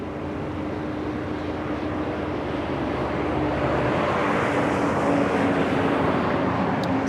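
A military aircraft engine roars loud and steady on a naval air base runway at Fort Worth Naval Joint Reserve Base, a broad sustained rumble that grows slightly louder over time.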